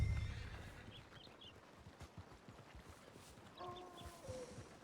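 In a western roleplay video game, a horse whinnies faintly while hooves clip-clop at a steady walking rhythm under soft ambient background.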